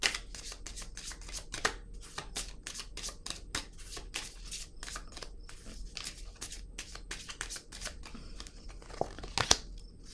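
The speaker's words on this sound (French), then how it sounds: "Je vais juste tourner ces cartes." Tarot cards being turned over and handled, a quick series of close, crisp paper flicks and slaps in an irregular rhythm, with no talking.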